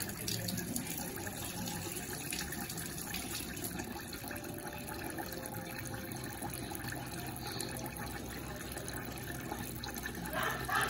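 Running water from a tap splashes steadily as a Brastemp washing machine filter is rinsed clean in a sink, a constant moderately loud gush lasting throughout.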